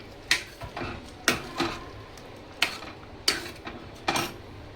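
A spoon stirs palak paneer in a pan, making five sharp metallic clinks and scrapes against the pan at irregular intervals, each ringing briefly over a quiet background.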